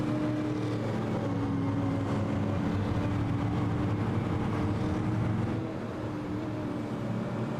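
Super late model race cars at Lanier roar past in a steady, continuous engine drone, fairly distant and even in loudness throughout.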